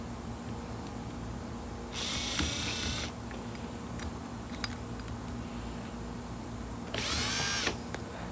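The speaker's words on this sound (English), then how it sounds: "putting this valve right here inside the drill itself" An electric drill spins an engine valve from a KA24 engine in two short bursts, each a loud high whine lasting about a second, with faint handling noises in between.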